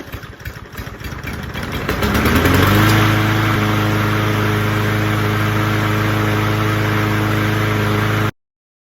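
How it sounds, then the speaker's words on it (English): A lawn mower's engine catches after a few sputtering pulls, then settles into a loud, steady idle that carries on alone until it cuts off abruptly. "Let's see if the mower even starts."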